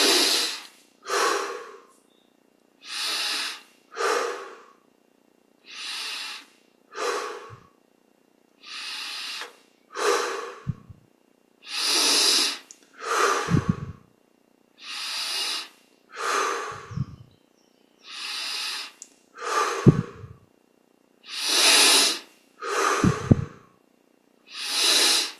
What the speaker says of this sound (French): et on prend 20 grandes respirations.